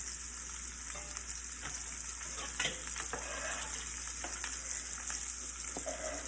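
Onion and garlic fry with spices in a pan as a continuous soft sizzle, with occasional stirring scrapes, fairly quiet and close.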